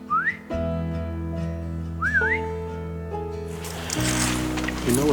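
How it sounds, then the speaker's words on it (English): A hunter whistles on an Arizona elk hunt to call a partner, two rising warbled whistles carrying over a steady low drone, with a rougher rushing noise building toward the end. "give him a whistle"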